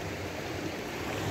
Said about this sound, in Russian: На той стороне вода бежала в ту сторону, на эту сторону.